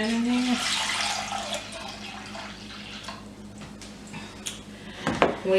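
Apple cider poured into a pot for a warm cherry cider drink, a steady close liquid stream running for several seconds, tapering off, then a few clinks and knocks near the end.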